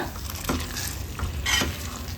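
Homemade tomato pickle bubbles in oil while a spoon stirs it around the pan, with repeated scraping strokes over a steady close sizzle and no talking.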